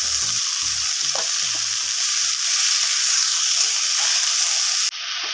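Loud, continuous sizzling of red amaranth greens and potato frying in a hot pan, with a few brief scrapes and knocks of stirring near the start.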